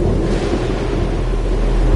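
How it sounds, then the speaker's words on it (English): A thunderstorm in Life is Strange: Double Exposure fills the scene with a loud, steady roar of rumbling and wind-like noise, with no distinct thunderclaps. "The storm's here too now."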